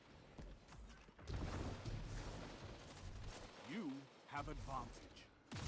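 Grenade launcher gunfire in the video game Dead Messenger, a string of fairly loud shots and blasts with mechanical clatter, mixed under game sound effects and a player talking over it.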